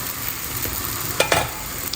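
A wheat pancake cooks in a pan with a steady soft sizzle and a couple of sharp scraping stir sounds, close and alone with no talking.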